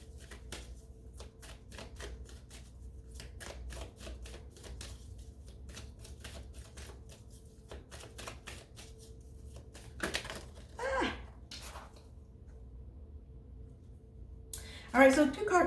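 Tarot cards are shuffled and pulled, giving a string of sharp, dry clicks and flicks in quick, uneven bursts, with soft rustling and a brief murmur of voice near the end.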